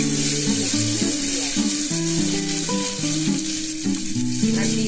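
Food frying in oil makes a constant bright sizzle, overlaid by a stepped melodic tune that plays prominently over it the whole time.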